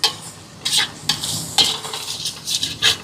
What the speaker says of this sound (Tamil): எல்லாத்தையும் சேர்த்து இப்படியே நல்லா கலந்து விடுவோம்.